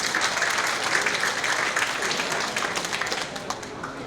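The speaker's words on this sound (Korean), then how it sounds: "저희 말에 동의하시는 분이 있으면 박수를 쳐주십시오." A rally audience applauds with dense, steady clapping that fades slightly toward the end. The clapping is close and fills the space, with a faint murmur of voices underneath.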